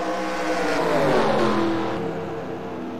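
Race cars in an eNASCAR racing video game roar past. Their engine notes rise and fall in a loud, continuous rush of revving that swells and then fades.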